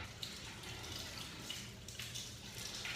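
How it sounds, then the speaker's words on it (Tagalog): Potatoes are rinsed under a running kitchen tap, a steady hiss of flowing water splashing into a sink with small irregular drips and sloshes as the potatoes are handled, soft and close. "Ngayon, hugasan muna natin itong mga potatoes bago natin balatan."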